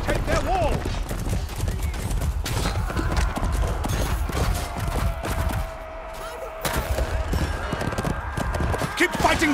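A horse trots with rhythmic clip-clop hoofbeats amid a medieval battle in the video game Chivalry 2, mixed with clanging weapons, shouting voices and bursts of combat noise.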